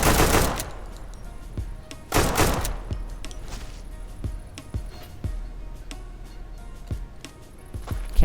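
A burst of automatic gunfire in the survival shooter Deadside rings out loud and close at the start, followed by more single and short-burst shots spaced through the clip and a loud report near the middle.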